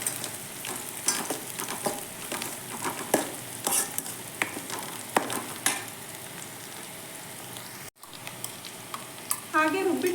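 Stirring chickpea usli with turmeric in a pan: a scraping, sizzling stir runs through the whole stretch with sharp spoon clicks, then a brief dropout and a busier clatter at the end.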